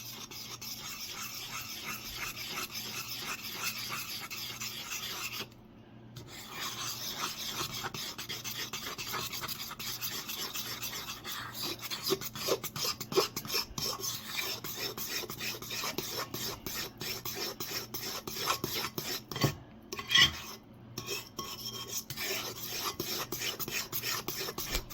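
Spoon stirring banana fruit and nut bread batter in a bowl, a close, steady scraping and rasping that runs almost without a break, with a couple of brief pauses and no talking.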